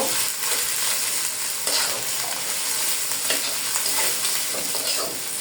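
Ginger garlic paste fries in a pan with a constant, close sizzle and crackle, broken by occasional scraping stirs, with no one speaking.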